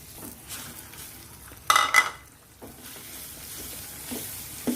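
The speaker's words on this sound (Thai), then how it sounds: "น้ำตาลไม่ละลายดีแล้วนะ ก็ใส่เนยลงไปเลยค่ะ" Butter dropped into melted sugar for caramel, with a brief sizzle and stirring scrapes in a pan, then quieter stirring continues; no talking.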